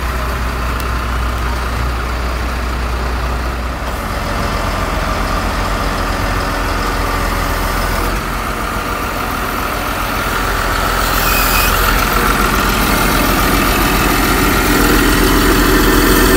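Mining crane truck engine idling steadily at close range, a continuous low rumble with vibration that rises slightly in loudness toward the end as the gear is shifted down.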